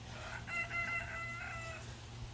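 A young rooster, only just learned to crow, gives a single short, wavering crow that stands out clearly over a steady low background hum.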